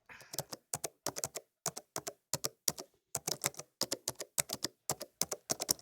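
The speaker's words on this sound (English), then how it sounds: "She's typing." Steady typing on a computer keyboard, close by, with quick clusters of clicky keystrokes separated by short pauses.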